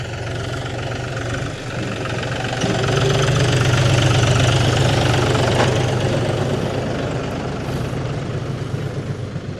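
A tractor engine running on the way to the fields, a steady low diesel rumble that swells a little louder midway and then eases, close and continuous with no talk.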